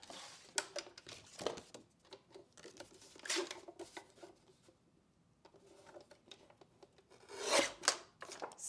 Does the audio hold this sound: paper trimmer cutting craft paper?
yes